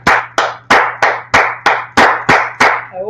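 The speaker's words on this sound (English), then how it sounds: "Let's clap it up for the Lord." Steady, evenly spaced hand claps, about nine sharp beats at a regular rhythm, ring out close and loud in a Bible brotherhood class, with a faint low hum underneath and no talking.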